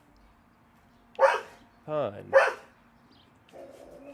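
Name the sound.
dog barking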